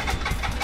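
A motorcycle with an Akrapovic exhaust, unstarted for three days and low on fuel, runs with a dense, rough, close engine rumble, steady and loud throughout the short stretch.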